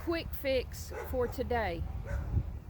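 Dogs bark and yip repeatedly, with sharp whimpering yelps in a quick irregular series close by, while a person speaks over them in a backyard vegetable garden.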